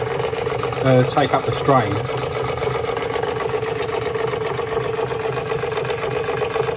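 A Marklin 16051 live steam engine runs with its pump filling the boiler, giving a steady mechanical chugging hum with a faint rhythmic whir while someone talks over it.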